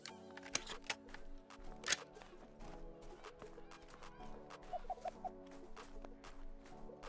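Wood ducks in the hunting game theHunter: Call of the Wild give faint, sharp screeching calls, a few scattered squeals over a quiet outdoor ambience.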